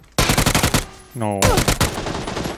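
Rapid bursts of automatic gunfire in PUBG on the Sanhok map, loud and close, a string of sharp shots, a brief pause with a tonal game sound, then more fast shots.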